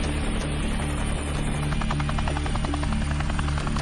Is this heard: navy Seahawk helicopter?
yes